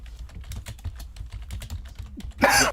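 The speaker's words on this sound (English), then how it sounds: "Typing." Rapid, irregular clicks of typing on a computer keyboard, close and distinct, end with a short louder burst of noise.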